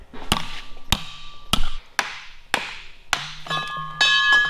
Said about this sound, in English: All right, so I'm gonna get this pounded in.